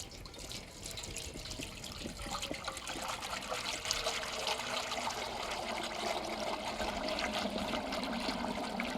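Frying oil pours steadily into a turkey fryer pot, filling it to a measured level; a continuous liquid splash and trickle runs throughout at moderate loudness with no talking.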